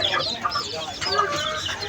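Young chickens kept as pets cluck in quick, close bursts of short, clipped calls, loud and alone with no talk.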